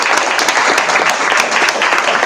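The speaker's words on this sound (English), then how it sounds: "So a round of applause for yourselves as well." Audience applause at an evening forensics event, steady dense clapping filling the room from start to finish with no talk over it.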